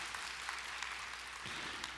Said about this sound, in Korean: 우리 찬양팀한테 한번 우리 감사의 박수를 한번 할까요?